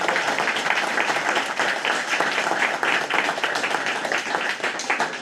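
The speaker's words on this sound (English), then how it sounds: "give another round of applause for all the kids that came up" Steady applause from a seated audience at a school board of education meeting, honoring children who came up, dense clapping running throughout at a fairly loud, even level with no talk.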